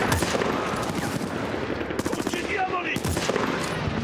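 Rapid gunfire from an M1 Garand rifle in the Battlefield Bad Company 2 video game, with dense, loud, closely packed shots that run without a break across the whole clip.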